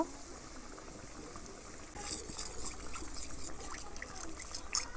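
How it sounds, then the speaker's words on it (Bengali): Water swirled in a bowl of poppy seed paste is poured into a simmering small-fish curry, a soft bubbling simmer giving way to a brighter trickling, splashing pour at moderate loudness. "পোস্তর বাটিটা একটু জল দিয়ে ধুয়ে নেব।"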